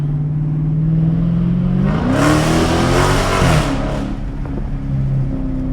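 A car accelerates hard close by, its engine note climbing and then roaring loud with a strained whine before easing back to a steady drone, no speech.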